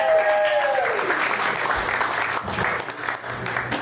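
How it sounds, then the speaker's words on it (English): A comedy theater audience claps steadily and loudly for several seconds, a dense wash of applause that holds its level throughout. "Give yourselves a round of applause."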